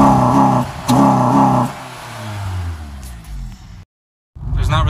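A car fitted with a Takeda Stage 2 short ram intake is revved in a few quick, loud pulls. The engine note rises sharply each time, then falls away, and there is a brief silent gap before another rev starts.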